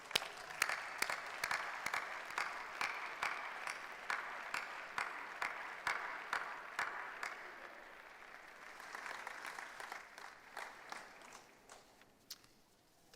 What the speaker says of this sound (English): Why not stand up, turn round to your families and friends and give them a big round of applause.